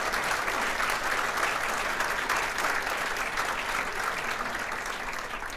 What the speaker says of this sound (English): So give Donna Duperon a big round of applause.